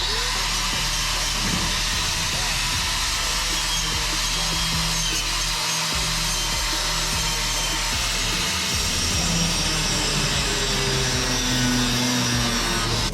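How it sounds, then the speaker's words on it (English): A power tool grinds steadily and loudly against the rusty metal cowl of a 1934 Chevy truck, a continuous abrasive whir with a droning hum that keeps going without pause. "I'm going to clean this stuff up and get all the years and years and years of rust off of it so that I can weld it."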